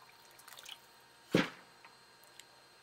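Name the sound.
pouring water into bread dough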